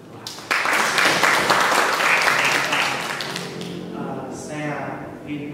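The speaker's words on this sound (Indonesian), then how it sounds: "tepuk tangan untuk Tuhan" A church congregation bursts into loud applause and claps steadily for a few seconds, then fades while voices carry on over it.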